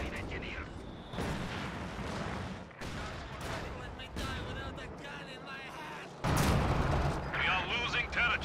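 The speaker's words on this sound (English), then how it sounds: "nice mortar shell there" Mortar shell explosions and artillery fire on a Company of Heroes 2 battlefield, loud booming impacts and rumbling blasts in several bursts, with a voice talking over the combat.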